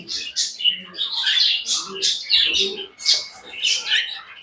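Gouldian finches give busy, close chirps and squeaky calls in quick bursts, overlapping one another with hardly a pause.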